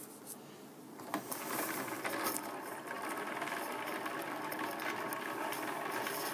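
A spinning wheel spinning yarn from the lock, a soft steady whir with light rhythmic clicking close by, starting a little quieter and settling into an even, continuous hum.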